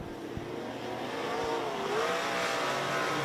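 Vintage race cars, two Fords, a Chevy and a Plymouth including a 1932 Ford coupe, roar past on a track, a steady engine drone with a rising pass in the middle, heard from trackside.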